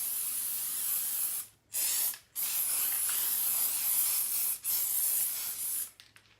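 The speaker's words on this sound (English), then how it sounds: "So I'm just going along the edges," Spray paint hisses in several short, light bursts along the edges of a paper stencil, with brief pauses between passes and no voices.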